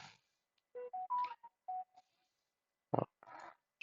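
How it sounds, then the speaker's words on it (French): A mobile phone gives a message notification: a short series of clear electronic chime tones in a quiet room, followed by a sharper click-like burst and a brief tone. "Vous avez entendu mon téléphone qui me prévient."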